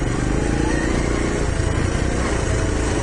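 Postie bike motorcycle ridden on the road, its small engine buzzing steadily and close throughout, loud with a raspy, busy tone.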